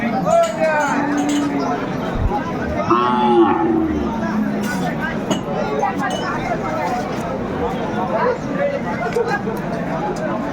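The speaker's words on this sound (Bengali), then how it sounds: "এখানে আর একটা দেখতে পাচ্ছি গাভী এবং বাছুর" A cow and her calf moo repeatedly at a rural cattle market in Aftabganj, Dinajpur, with low, drawn-out calls rising over steady crowd babble and nearby voices.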